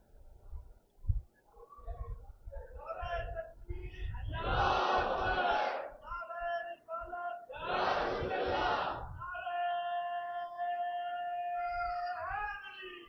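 Crowd at a Muharram majlis shouting religious slogans in two loud, sustained bursts, with a single voice leading between them and a held chanted call at the end.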